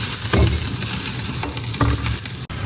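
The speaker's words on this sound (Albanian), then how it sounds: "Thjesht merrni gjithë sasinë e gështenjave që keni, do i kaloni në tigan" Chestnuts being stirred and roasted in a frying pan, a close, continuous sizzle broken by a few scraping and rattling strokes, with no talk.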